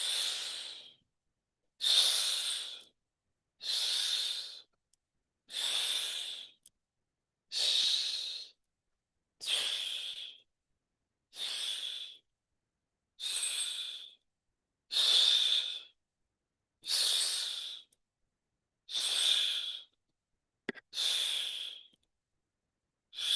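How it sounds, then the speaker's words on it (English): Deep, slow breaths drawn in through the nose and released through the mouth, about a dozen even cycles with brief pauses between, close and clear during a guided group breathing exercise. "Taking a deep breath in through the nose, out through the mouth"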